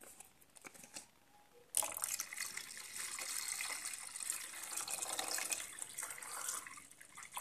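Water is poured into a bowl of churned cream mixture for homemade butter, a sudden start of steady splashing and trickling that runs on continuously, close and moderately loud after a quiet lead-in.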